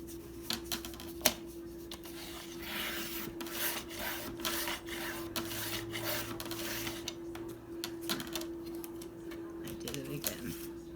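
Paper being cut for a mini scrapbook journal gives a steady rasping, rubbing scrape with irregular sharp ticks, close by, over a constant low electrical hum.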